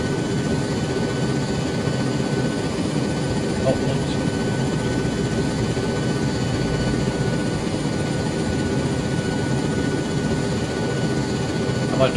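Helicopter flying in the video game ARMA 3, a steady, continuous rotor and engine drone holding at an even level throughout.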